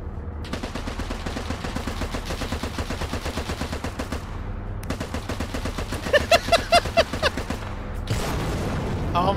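Rapid bursts of heavy mounted-gun fire in a video game battle, a long rattling stream with brief gaps and a few louder close shots, over continuous battlefield noise.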